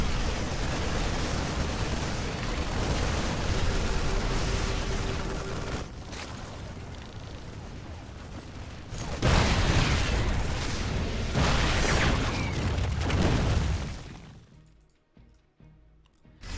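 Heavy, roaring explosions from bases being destroyed in StarCraft 2 pile into a dense, continuous wall of rumbling blasts, with a sharp renewed burst partway through before fading to near quiet at the end.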